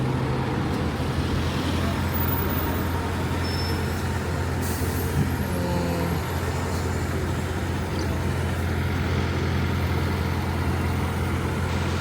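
A traffic jam on a London street near London Bridge gives off a steady low rumble of idling trucks, buses and cars, with a short air-brake hiss partway through.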